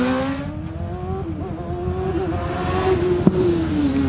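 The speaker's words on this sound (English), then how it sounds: "They're running a 750 turbocharged Kawasaki unit." A turbocharged 750 Kawasaki engine powers the OMS 28 hillclimb car, droning steadily with a rising and falling pitch as it works through a British Championship hillclimb at Harewood, fairly close and continuous with a brief sharp crack near the end.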